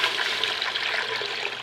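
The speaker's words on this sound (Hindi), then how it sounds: "और इसमें डाल देंगे पानी।" Water is poured into a heated cooking pot while preparing fish biryani, a dense, close, continuous splashing rush lasting under two seconds, with no voices.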